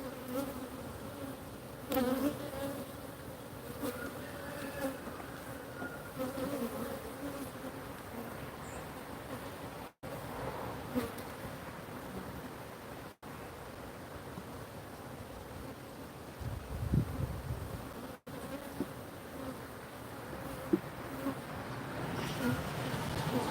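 Honey bees swarm and hum during a hive inspection, a continuous close buzzing drone of many insects that stays steady throughout, growing slightly more agitated at moments, with faint handling noises of hive boxes.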